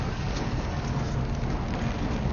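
Steady rain falls outdoors in front of the White House, a dense, continuous hiss with a heavy low rumble, close and even throughout with no voices.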